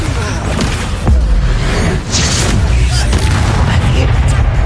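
Bombarda explosion spell cast in Hogwarts Legacy during a busy spell battle, a deep booming blast with a sharp burst near the start, sitting in dense loud game combat noise and effects.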